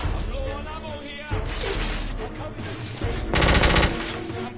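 Suppressive gunfire in the video game The Order 1886, loud rapid automatic bursts with booming impacts over steady combat noise, growing more intense near the end, with voices speaking under it.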